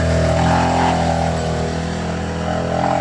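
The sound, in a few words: roadside traffic noise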